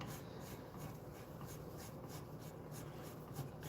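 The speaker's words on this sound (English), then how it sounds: "I'm using a number 2 file to file this down" A number 2 file worked by hand across a taped guitar part, giving a close, steady run of rasping strokes at an even rhythm, roughly three per second, with no talking.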